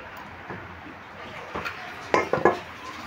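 A folded singara pastry with a potol (pointed gourd) filling is set down into a dish. A few soft taps come first, then a quick cluster of light clunks of dish and pastry close by.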